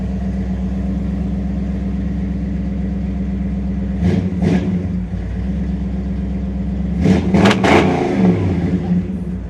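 1959 Chevrolet engine idling steadily with a deep, close rumble, then blipped through a couple of quick throttle revs and a stronger double rev near the end.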